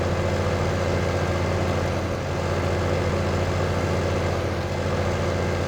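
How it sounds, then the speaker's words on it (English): A Quadtrac tractor engine drones steadily and loudly, a constant low heavy hum with no break across the whole span and no talk. "This tractor has made quite a drone."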